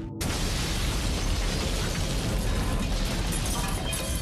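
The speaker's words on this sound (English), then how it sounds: "a terrifying explosion rips through Leggy Ann Street" A sudden loud bomb explosion on Legian Street in Bali bursts in, followed by a sustained roaring, rumbling blast that fills the whole stretch without fading.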